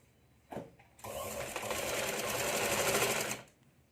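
An electric sewing machine runs a straight stitch along the lining of a katori blouse sleeve, starting with a short burst and then a steady close whirring hum for about two and a half seconds before stopping.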